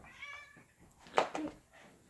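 A domestic cat gives a single clear meow indoors, preceded by softer faint vocal sounds, with no talk over it.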